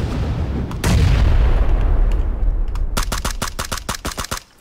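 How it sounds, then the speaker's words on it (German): Grenades exploding in the battle game PUBG: one big deep boom followed by a rapid string of sharp, loud blasts close by, with no talking over them. "ich schmeiß jetzt Granaten, bringt aber nichts"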